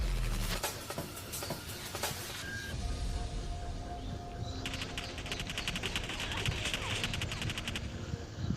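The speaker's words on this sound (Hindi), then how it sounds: "फाइनली यार क्राउच एंड फायर करके मैंने इसे मार दिया" Gunfire in a battle royale shooter fired from a crouch, with dense rapid shots early, then a fast rattling automatic burst later over constant game ambience.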